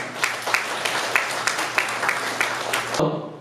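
Clapping from guests at a 2018 year-end gathering of an Incheon kidney-disability association, honoring an appointment as advisor; steady crowd applause for about three seconds, then cutting off abruptly.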